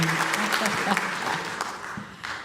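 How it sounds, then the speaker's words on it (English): Audience applause after a performance at a tribute concert, a short burst of clapping mixed with a cheer and some voices, fairly close and moderately loud. "Can you give another round of applause to that wonderful, wonderful performance?"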